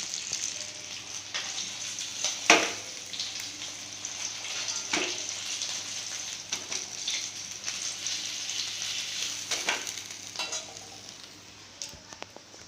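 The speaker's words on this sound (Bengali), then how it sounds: "মাছগুলো ভাজা হয়ে গিয়েছে" Pieces of katla fish fry in oil in a kadai, giving a steady close sizzling hiss broken by a few sharp crackles and spatters.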